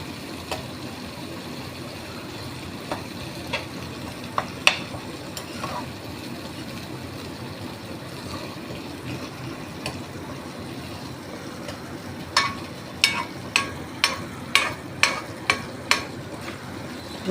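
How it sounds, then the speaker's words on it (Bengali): Chhana, fresh cottage cheese, fries in oil over a high flame, giving a steady sizzle with scattered sharp crackles and spatula scrapes that cluster near the end. "ধরে ধরে দেখিয়ে দিচ্ছি ভাজাটা, বেশ হাই ফ্লেমে ভাজছি। তেল ছেড়ে ছেড়ে আসছে।"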